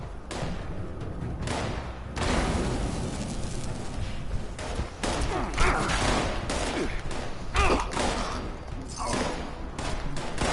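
A frag grenade explosion in Fallout 76, with sharp thumping bursts and scattered crackling impacts over a dense, noisy battle backdrop, fairly loud and close.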